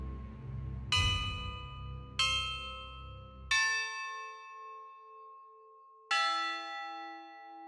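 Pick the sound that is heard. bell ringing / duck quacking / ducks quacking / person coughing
bell ringing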